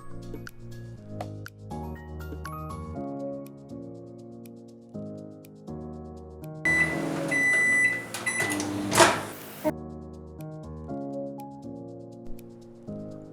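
A kitchen oven runs steadily while garlic bread bakes inside, a continuous close hum with a brief brighter burst near the end.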